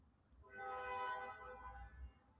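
A train horn sounds once, a harmonic tone swelling and fading over about a second above a low rumble, fairly faint and heard on its own.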